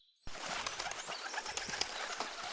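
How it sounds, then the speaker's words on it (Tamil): Pigeons in an animated children's story flutter and coo as a flock comes down to eat scattered grain, with a sudden burst of wing flapping and soft bird calls that go on steadily, close and without talk. "ஆனா அங்கிருந்த எந்த புறாவும் தலைமை புறா பேச்சு கேட்காம கீழே இறங்கி தானியங்களை சாப்பிட ஆரம்பிச்சதாம்"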